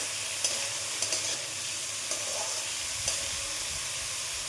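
Food being stirred in a frying pan, a steady bright sizzle with a few soft spoon scrapes and taps, close and even, with no voices.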